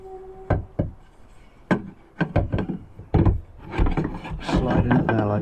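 A wooden leg for a Peugeot Boxer L2 H2 self-build camper van conversion slides into place with scraping rubs and locks with several sharp, close knocks. Rough wooden handling noise continues after it.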